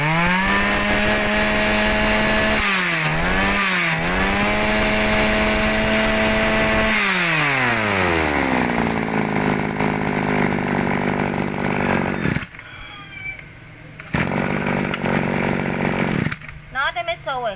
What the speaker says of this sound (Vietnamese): nghe cái đời máy nó chạy là không có lẫn vào đâu được